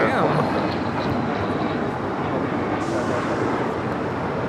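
Turkish Airlines airliner at LAX, a steady broad engine roar holding loud and close throughout, with a voice talking over it.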